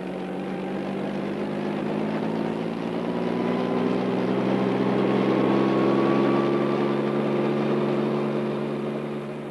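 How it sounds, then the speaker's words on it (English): A streamlined helicopter used for capturing desert bighorns drones steadily nearby, a loud, even engine and rotor hum with harmonics that swell slightly toward the middle and then ease off. "There's the chopper we'll use."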